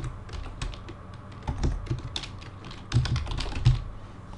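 Keys clacking on a computer keyboard while text is typed into a box in Microsoft Word, an irregular run of close, light taps with a few louder bursts, no voices.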